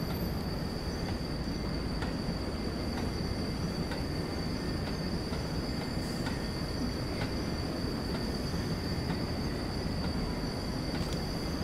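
Class 08 shunting locomotive moving a train into a siding in Train Sim World 4, a steady rolling rumble of wagons with faint rhythmic wheel clicks and a high squeal, continuous and fairly quiet.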